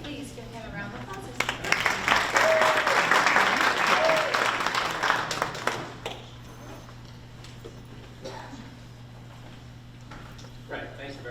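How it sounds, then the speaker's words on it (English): An audience applauds a guest speaker at an afternoon university speaker-series event, with dense clapping for about five seconds that then fades into a quiet room. "So please give him a round of applause."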